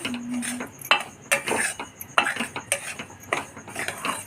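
Semolina (rava) is dry-roasted in a pan with a little ghee or oil, with repeated scraping strokes and sharp metal clinks of a spoon against the pan in an irregular rhythm, close and fairly quiet.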